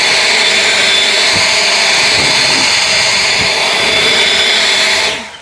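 An EGO Power+ LB7650 cordless leaf blower runs on turbo with a loud, steady, high-pitched rushing whine of air that holds for about five seconds, then cuts off abruptly.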